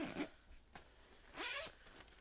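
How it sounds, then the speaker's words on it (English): A zipper on a handmade fabric project bag with a recessed zipper and an end stop is pulled open and closed in a few short, close rasps, with a longer zip near the end and no talking. "I put in a recessed zipper, and I put a little end on my zipper so that it can't come off the end"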